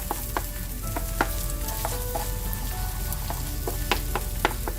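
An egg scrambled in a frying pan for an okra stir fry, a constant close sizzle punctuated by repeated sharp taps and scrapes of a spatula against the pan.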